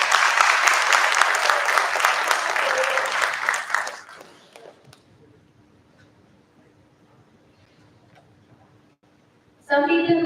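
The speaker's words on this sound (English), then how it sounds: "I think we can give her a round of applause." A tech talent league audience gives a full round of applause that fades away after about four seconds, leaving near silence before a sudden loud burst returns at the very end.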